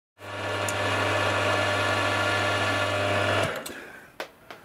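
A steady high-pitched power drill whine runs for about three seconds while drilling holes in metal in a workshop, then spins down, followed by a couple of sharp clicks.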